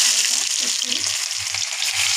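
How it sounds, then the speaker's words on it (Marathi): Steady, loud sizzling of onion frying in hot oil for pav bhaji, with faint stirring scrapes underneath; no talking. "तेल आपलं इथे छान तापलं आहे त्यामध्ये मी कांदा"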